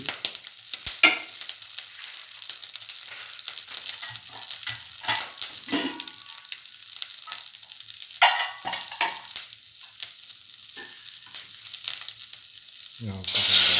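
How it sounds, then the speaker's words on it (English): Mustard seeds pop and curry leaves sizzle in hot oil, giving sharp, scattered crackles and snaps over a thin frying hiss that grows steadier toward the end, with no voices. "Put in the mustard seeds. Let them pop."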